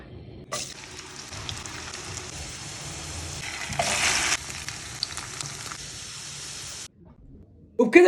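Taro and potato fingers fry in a pan of hot oil, a steady close hiss of sizzling that swells briefly as more pieces go in, then cuts off before a short clatter at the end.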